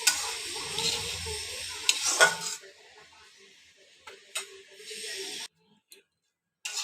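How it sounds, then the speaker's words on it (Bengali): Semolina (suji) dry-roasting in a pan for a spicy suji dish, stirred in short scraping bursts that fade into quiet gaps near the end, close and fairly soft. "হালকা ব্রাউন কালারের ভেজে নেব"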